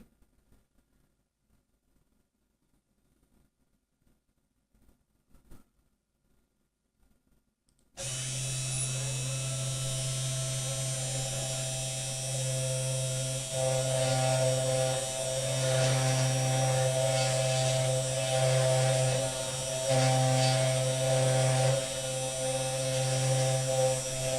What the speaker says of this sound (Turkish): Şimdi arkadaşlar sent diyerek başlatıyoruz makineyi